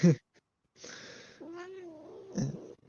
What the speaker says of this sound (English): Did you hear her meow?